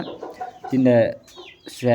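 A rooster gives several short clucks and throaty calls close up, with a brief gap between the bursts, alone without talk.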